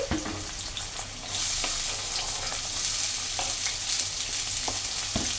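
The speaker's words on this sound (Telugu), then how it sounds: "ఈ ఉల్లిపాయలు పచ్చిమిర్చి అనేది వేసేస్తున్నాను. బాగా ఫ్రై అవ్వాలి." Sliced onions and green chillies hit hot oil and fry with a loud, steady crackling sizzle that swells after the first second and then holds close and continuous, with a few small pops.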